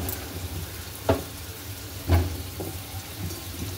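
Potatoes cook with salt and turmeric in a wok of barely heated oil, giving a soft, low sizzle with two dull clunks from the pan partway through.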